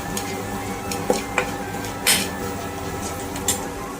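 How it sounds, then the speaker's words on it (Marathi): Red chili powder and onion-garlic chutney are stirred in a hot pan. A spoon scrapes and taps against the metal over a steady low sizzle, with several distinct clinks standing out. "2 चमचे लाल तिखट, थोडंसं कांदा लसणाची चटणी छान परतवून घ्यायचं"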